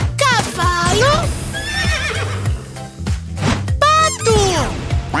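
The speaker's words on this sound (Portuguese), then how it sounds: "Cavalo!" Horse neighing loudly and close, several shrill, quavering whinnies that rise and fall, separated by snorts and short pauses.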